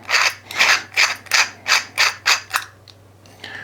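Seven or so rhythmic rasping, ratcheting strokes as an ASR QD mount is threaded onto an Anechoic suppressor, loud and close, metal grinding against metal before a pause and a faint final click.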